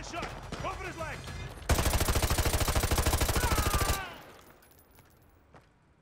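Rapid, loud burst of automatic gunfire from Call of Duty Modern Warfare 2 Remastered, a dense steady string of shots lasting about two seconds that then fades out, with voices and game sound before it.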